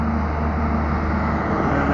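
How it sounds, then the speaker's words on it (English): A truck rumbles steadily along a city street, a constant broadband traffic roar with heavy low-end engine drone close by, with no talking. "and then there goes the truck."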